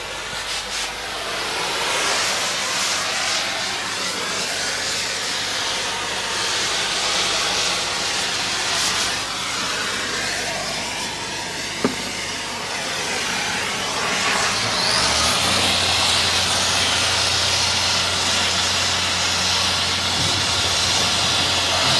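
A gas cutting torch works on Powerscreen cone crusher repair parts, giving a steady, close roaring hiss that runs unbroken for the whole stretch with no voices.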